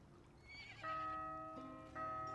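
Horse in the video game The Guild 3 letting out a clear, loud whinny during combat, with ringing tonal game sounds around it and no speech.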